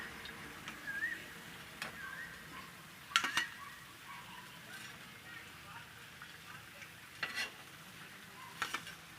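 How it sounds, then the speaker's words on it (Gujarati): Aloo patties fry in a pan with a faint, soft sizzle, broken by occasional sharp clinks and scrapes of a utensil against the metal. "તો આપણે આ રીતે બધી તળી લેવું પેટીસ."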